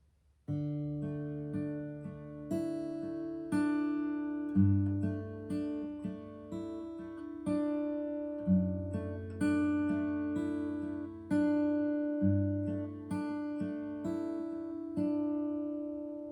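An acoustic guitar is fingerpicked in a simple, easy arrangement of a song, with clear, close plucked notes ringing out in a steady repeating pattern and no voice.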